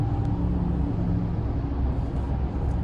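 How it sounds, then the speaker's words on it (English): A truck roars past on a highway at around 70 mph with a heavy engine rumble, sounding like it could blow up, loud and continuous throughout with steady low-end road noise. "Sounds like his truck is about to blow up."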